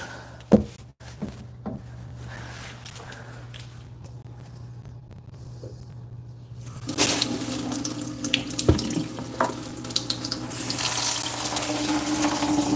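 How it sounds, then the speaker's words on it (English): Water runs from a kitchen sink faucet under repair, starting as a low trickle with a few clicks and knocks, then surging into a loud, steady rush that splashes into the basin. "Let's run the water and see if it leaks."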